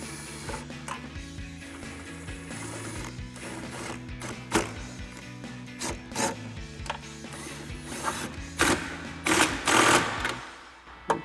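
Nuts are tightened onto the studs of a powered heated folding towing mirror on a 2011-2016 Ford F-250, heard as a close, rhythmic mechanical ratcheting and whirring with uneven bursts and sharp clicks, no talking.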